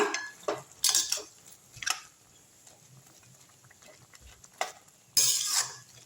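A utensil stirs Maggi noodles with vegetables and egg in a metal pan, giving sparse scrapes and clinks in irregular bursts, close but fairly quiet, with near-silent gaps between strokes.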